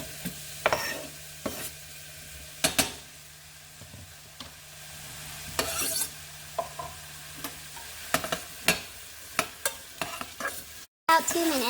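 Onions and garlic frying in hot oil, a low steady sizzle broken by sharp clicks and clatters of a utensil against the pan, close by, with no talking.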